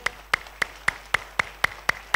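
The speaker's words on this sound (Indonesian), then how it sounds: "Mari kita beri tepuk tangan dong buat satu sama lain." Church congregation clapping during a Christian service, heard as about nine sharp, evenly spaced claps in a steady rhythm, fairly close and without talk.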